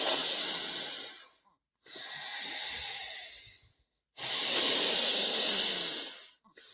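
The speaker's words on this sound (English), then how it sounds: "Breathing through the nose." Three long, slow breaths drawn through the nose hiss close to the microphone during a breathwork exercise, each separated by a short pause of silence.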